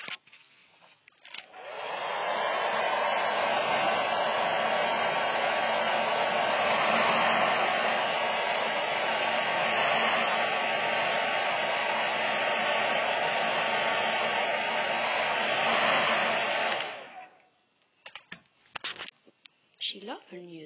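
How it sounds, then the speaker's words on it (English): A hand-held hair dryer blasts hot air at high heat onto a Barbie doll's hair, a steady, loud, continuous roar lasting about fifteen seconds before it cuts off, followed by a few light handling noises. "Don't blow dry Barbie hair at this heat."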